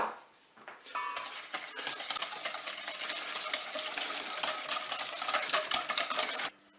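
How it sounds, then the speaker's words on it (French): Butter and sugar being stirred together in a bowl for a hazelnut cake: after a brief quiet start, a continuous run of close scraping, swishing strokes with occasional utensil taps, and no talking. "On va commencer par mettre le beurre et on va le mélanger avec le sucre."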